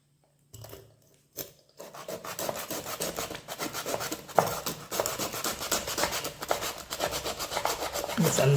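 A knife saws through a cleaned stingray, giving a steady rough rasping scrape that starts after a couple of brief taps and continues close and loud with no talking.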